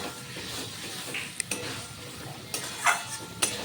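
A spice paste is sautéed with boiled potatoes for a Bengali egg curry: a soft, low sizzle runs throughout, broken by a few sharp clicks and scrapes of a spoon against the pan.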